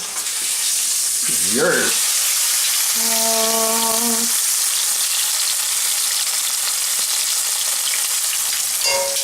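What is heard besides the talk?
green beans frying in butter in a hot pan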